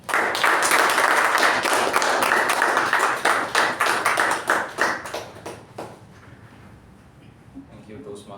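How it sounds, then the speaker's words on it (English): A room full of people at a Toastmasters meeting applauds loudly and steadily for several seconds, the clapping thinning and fading out toward the end. "with a huge round of applause, please welcome our President Toastmaster Sh"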